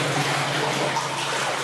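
Water runs steadily inside an old tramway tunnel, a loud, continuous rushing and splashing close by that fills the space without pause and with no talking.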